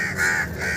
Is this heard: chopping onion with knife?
no